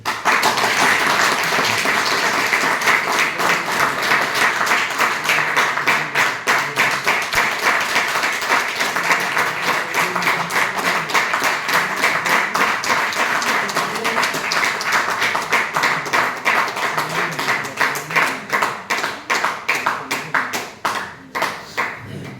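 Audience clapping at a company event in India, a long, loud, dense burst of many hands that holds steady for over twenty seconds and breaks into scattered claps near the end.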